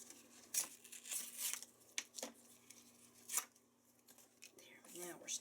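A paper trimmer slices through paper in a series of short, crisp cutting and rustling strokes at irregular intervals, close by and fairly quiet, with a faint steady hum underneath.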